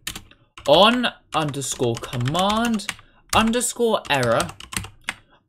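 Python code being typed on a computer keyboard, the key clicks running under a man's near, continuous talking.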